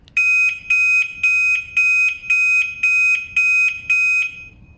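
Alarm on a Zontes Mantis 125 cruiser motorcycle, triggered by its tilt sensor, sounds seven loud, evenly spaced electronic beeps, each held for about half a second with short gaps between them.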